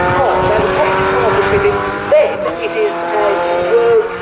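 Fun Cup race cars passing at Snetterton during a BRSCC championship race, engines rising and fading as they go by, underneath continuous race commentary.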